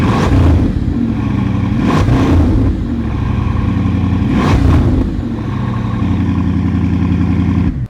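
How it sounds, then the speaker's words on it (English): A turbocharged car engine on a cold start is revved hard in three loud, close bursts, settling back to a rough, rumbling idle between each blip, with no talking. "You just turned it on and you're already revving it."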